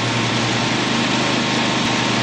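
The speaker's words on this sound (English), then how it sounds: "So I'm sorry if you hear the lawnmower" A lawn mower runs nearby with a steady, loud, unbroken engine drone and a fine rhythmic pulse throughout.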